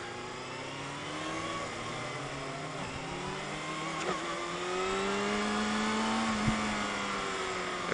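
A 2020 Kawasaki Ninja ZX-6R 636 with an Akrapovic exhaust accelerating, its engine tone climbing smoothly through the gears with brief dips at shifts, a steady, moderately loud, not overly aggressive drone.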